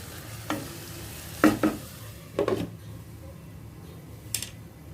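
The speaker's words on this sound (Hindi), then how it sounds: "मिक्स करेंगे और पूरी तरह से टमेटोज को मैशअप होने देंगे।" Tomatoes with garam masala cooking in oil in a pan for baingan masala, a low steady sizzle broken by several distinct scraping and mashing strokes of a spoon, close and moderately loud.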